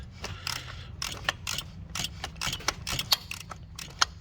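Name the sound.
1/2 inch ratchet loosening oil pressure switch on 2014 Jeep Wrangler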